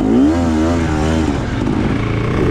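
A 2024 KTM 300 TBI two-stroke dirt bike revs hard while being ridden, its engine pitch climbing and wavering in a loud, close, continuous buzz with no talk over it.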